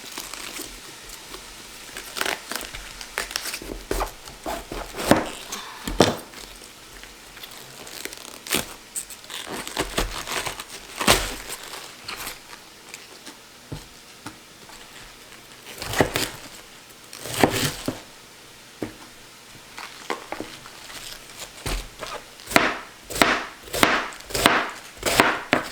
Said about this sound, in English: I'm going to take off some of these outer leaves, clean it up a bit, cut the core out.